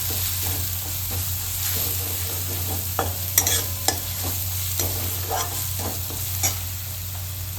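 Green chillies with turmeric sautéing in oil for a Maharashtrian cluster bean bhaji, a constant close sizzle with repeated spatula scrapes and taps, no voices.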